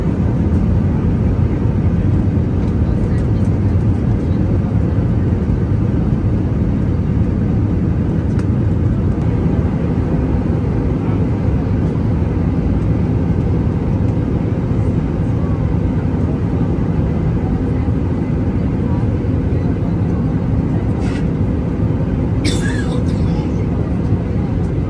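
Steady, loud broadband roar inside the cabin of a Vistara airliner descending to land at Hyderabad on a flight from Mumbai, an unbroken engine and airflow drone throughout with a faint voice talking over it.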